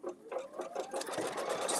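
A sewing machine runs steadily for a short burst, its needle mechanism producing a rapid, even mechanical whir at close range, with no talking.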